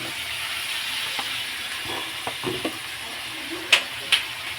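Meat frying in a pan at home, a steady soft sizzle running throughout with a few light clicks and two sharper utensil knocks near the end, no voices.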